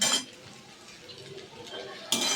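Fried onions and chilies get stirred in a pan for chowmein, with soft scraping and clinking of a utensil against the pan and short bursts of louder clatter at the start and end.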